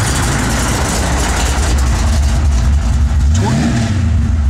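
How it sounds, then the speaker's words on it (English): A 1973 Chevrolet Camaro with a pump-gas engine revs loudly up close, its deep throaty exhaust rumble swelling and falling continuously, with a pitch sweep around the middle as the throttle blips. "Pump gas engine, but plenty of power."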